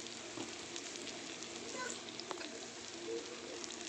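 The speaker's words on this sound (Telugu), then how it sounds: "టమాటా మొత్తం మగ్గిపోవాలి, స్కిన్ అనేది రిమూవ్ అవ్వాలి, అంతవరకు వేయించాలి" Tomatoes fry in oil in a pan with a continuous, even sizzle and occasional faint crackles, heard close but quiet, with no voices over it.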